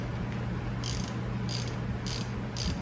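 A ratchet tightens bolts during a front brake replacement on a 2008–2011 Mazda 5, giving four short bursts of rapid clicking over a steady low hum, close and clear.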